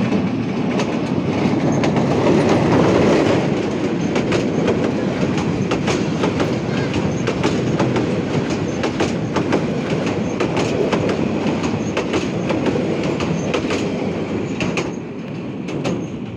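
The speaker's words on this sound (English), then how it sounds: "Now the train is on bridge." Powerful Bangladeshi train crossing a bridge, a loud continuous rumble with rapid clickety-clack of wheels over rail joints throughout, heard close and alone.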